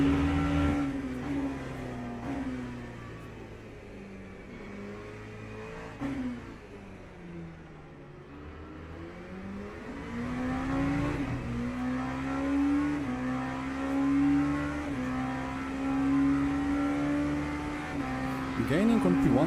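Porsche race car engines drone and rev steadily in Le Mans Ultimate, a sustained multi-car engine tone rising and falling through gear changes, with several cars close together on track.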